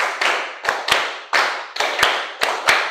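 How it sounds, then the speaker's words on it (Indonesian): Schoolchildren in an elementary classroom clap in unison in a rhythmic concentration pattern, a series of sharp group claps and taps in an uneven beat, loud and close with no talking. "Satu kali lagi, tepuk konsentrasi."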